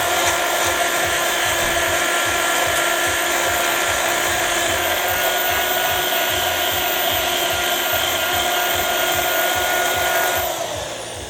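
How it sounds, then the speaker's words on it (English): A small sanding disc on a power tool gently cleaning a Ferrari clutch part, a constant high-pitched whir with a light grinding edge that runs steadily for about ten seconds before winding down at the end. "I'm just going to give this a light clean off with this little sanding disc,"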